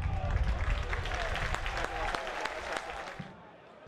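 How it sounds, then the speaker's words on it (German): Spectators at a football match between SSV Reutlingen and Neckarsulmer Sport-Union applaud, a dense patter of clapping from the crowd that slowly fades, with a commentator's voice over it. "das zahlende Klientel quittierte es mit Applaus"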